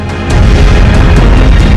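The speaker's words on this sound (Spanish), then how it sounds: "El Krakatoa directamente explotó." Krakatoa volcano in Indonesia exploding: a loud, deep, rumbling boom that swells in after a brief quieter start and holds as a dense low roar throughout.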